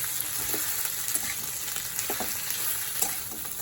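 Onion, chilli, garlic and a fried hilsa head sizzling in oil, a steady low crackle with occasional scraping taps of a spatula mashing and stirring, close and fairly quiet, no voices.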